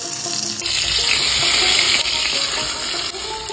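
Eggplant frying in leftover hilsa fish oil gives a steady, loud, close sizzle with bright hissing crackle throughout, and no voices.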